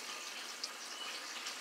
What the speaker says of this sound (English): it flushed like a lamosa, but really slow